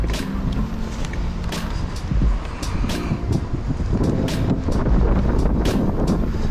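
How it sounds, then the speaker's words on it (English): Strong wind buffets a microphone outdoors on mountain bike trails at Bertram Chain of Lakes, Monticello, Minnesota, a constant loud rumbling roar with gusty bursts throughout. "Ooh, it's windy."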